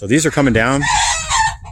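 Chickens on a rural property cluck loudly and close, with a rooster-like crowing call, while a person speaks over the birds.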